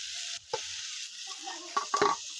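Chow mein noodles with boiled vegetables and grated carrot stir-frying in a pan, a steady hiss of frying with scattered scraping and tapping from the spatula.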